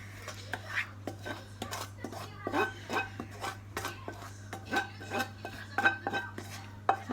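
Wilted spinach and cooked vegetables are spooned into a quiche dish, with repeated clinks and scrapes of a spoon against cookware over a steady low hum, quiet and close.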